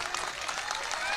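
Crowd applause at a political rally, a steady dense wash of clapping throughout a brief moment, fairly loud and close with no voice on top.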